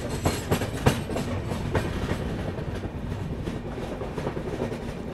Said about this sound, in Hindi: चलिए 2 मिनट के हॉल्ट के बाद डिपार्चर के लिए हम लोग तैयार हैं मेघनगर रेलवे स्टेशन से।